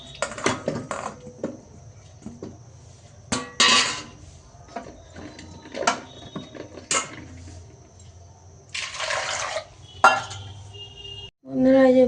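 A metal pot is set down on a stove to boil washed sweet potatoes in a home kitchen, with scattered clanks, clinks and scraping knocks of cookware, close and moderately loud, then a hard final clunk.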